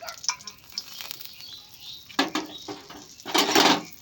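A single bay leaf dropped into hot oil in a heated wok gives intermittent crackling sizzle bursts, strongest near the end, close and moderately loud, with no talking.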